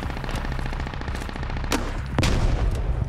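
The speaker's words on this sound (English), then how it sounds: "Getting sniped at." Gunfire in a shooter video game, a rapid run of repeated shots with two sharp, louder cracks standing out, loud and close over a steady rumble.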